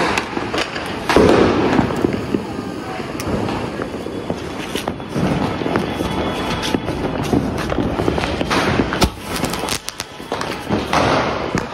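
A small sky shot firework set off during Diwali celebrations, with a burst of crackling and popping bangs that repeat at close range amid outdoor background noise and occasional footsteps.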